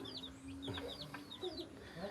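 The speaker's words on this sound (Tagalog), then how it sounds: "Yung mga bantam yan, ang gaganda." Bantam chickens cluck in a short burst of clucks and chirps at moderate distance, with steady background noise and no talking.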